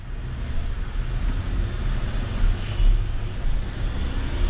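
A Jeep Grand Cherokee and a Ford F-150 EcoBoost race from a rolling start at 20 mph, heard as a steady, heavy low engine and road rumble mixed with wind noise. The rumble swells slightly partway through, with no clear voices.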